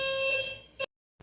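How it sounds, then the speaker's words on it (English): An apartment fire alarm sounds close and loud with a harsh tonal blare that fades, then a short burst cuts off into silence before another brief blip starts. "As soon as I ended the video, the fire alarm went off in my place."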